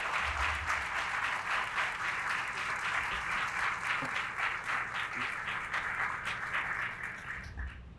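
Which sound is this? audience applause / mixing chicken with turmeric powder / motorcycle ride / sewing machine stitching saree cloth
audience applause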